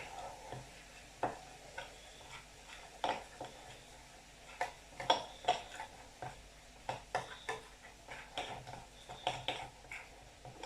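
A spoon stirs a flour and milk mixture in a pan, producing repeated rhythmic scraping taps and knocks against the pan, close and clear, with no talk over it.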